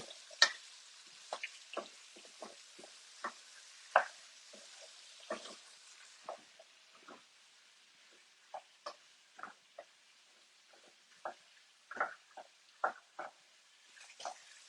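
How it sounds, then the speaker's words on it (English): Potato stirred through a paste in a fry pan, giving intermittent scraping and light sizzling taps at an uneven rhythm, close by with no talking. "I just need to stir it through so that paste that we've made in the bottom of the fry pan is just coating the potato"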